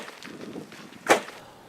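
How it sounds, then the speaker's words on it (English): A Toyota Land Cruiser's suspension bottoms out on a fairly small rock off-road, giving one sharp, loud bang over low rumbling engine and cabin noise. "That's the sound of the Land Cruiser's suspension smashing into a fairly small rock."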